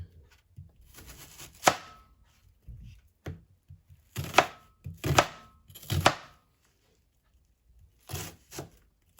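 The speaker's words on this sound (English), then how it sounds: "Then I'm going to dice my onions that I'm going to add." Knife dicing onions on a cutting board for a pie filling, heard as irregular bursts of sharp, close chops with short pauses between groups.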